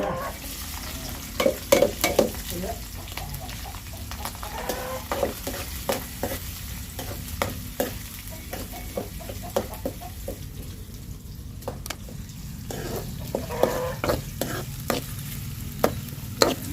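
Onions and green chillies sizzle steadily in hot oil while a utensil scrapes and stirs, leaving repeated clicks and scrapes over the constant frying hiss.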